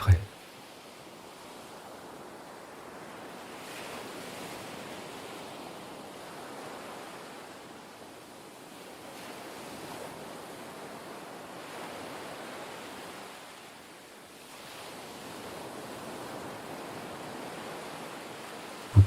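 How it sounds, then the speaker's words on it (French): Ocean waves wash ashore over bare feet in clear water, a soft, steady surf hiss that swells and ebbs slowly, faint and fairly distant throughout. "Les vagues continuent de s'échouer sur vos pieds et vos chevilles"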